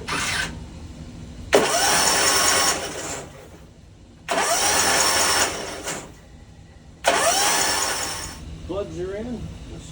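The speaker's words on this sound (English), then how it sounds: "I'm going to do a couple dry turnovers, get some oil through the pump and pistons and stuff, rods" A Kawasaki FR691 engine on an Exmark mower cranks over without spark plugs, three separate dry starter bursts of a few seconds each, loud and close, with short pauses between them.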